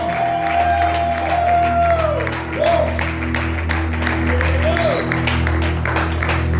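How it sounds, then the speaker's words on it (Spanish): Church congregation applauds and cheers during a Spanish-language service, clapping mixed with shouts and whoops over a background music bed, moderately loud and continuous. "Habrá que dar un aplauso fuerte a Dios."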